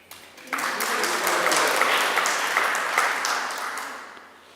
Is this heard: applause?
yes